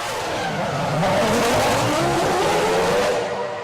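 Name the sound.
Formula 1 race cars racing, 2005 season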